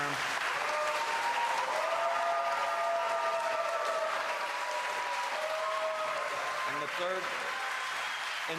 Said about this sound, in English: And even some applause there from the audience.